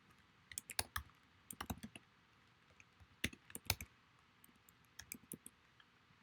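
Computer keyboard being typed on in short irregular bursts of soft, close clicks, fairly quiet with pauses between the flurries of keystrokes.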